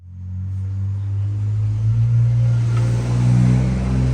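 Porsche 996 driving a few blocks through a quiet neighborhood in Mililani, its engine a steady low rumble with mild revving throughout, close and continuous with no talk.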